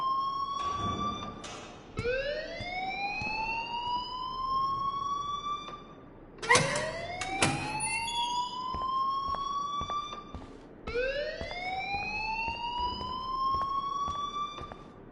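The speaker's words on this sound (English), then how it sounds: "please turn off that alarm since that's your job" An alarm in the video game Life is Strange rings as a loud rising siren wail, repeating roughly every four and a half seconds, with sharp clanks and clicks in between.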